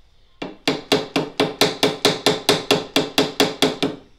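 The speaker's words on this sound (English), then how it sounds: "I'm also using the peen side of the hammer to make the head of this brass pin" Ball-peen hammer striking a brass pin on an anvil to mushroom its head on a machete handle, about fifteen sharp, ringing metallic blows in a steady, even rhythm, close and loud with no talk.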